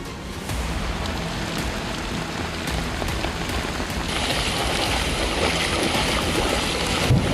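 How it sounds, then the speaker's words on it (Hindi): Heavy downpour of record April rain pours steadily in a Chinese city, a dense continuous hiss of rain on surfaces, loud and unbroken throughout. "चीन के शागुआ शहर में अप्रैल के महीने में अब तक करीब 650 मिलीमीटर बारिश हो चुकी है"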